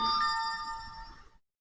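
A computer notification chime during a live stream: a single bright, bell-like tone with ringing harmonics that fades out over about a second and a half, alone and fairly clear.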